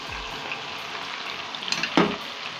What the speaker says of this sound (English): Now that our oil is all heated up, I'm going to go ahead and fry the leeks